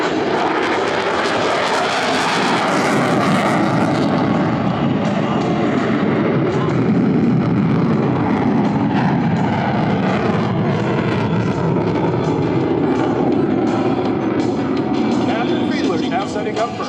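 An F-16 Viper fighter jet flies past at the 2023 Thunder Over New Hampshire air show. A loud, continuous engine roar fills the whole stretch, with an announcer's voice over it.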